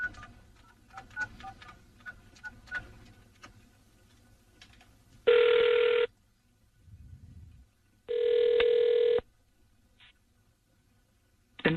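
Two long electronic telephone ringback tones sound after a redialed call, each about a second, separated by a pause, with faint clicks and low room noise between them and no talking.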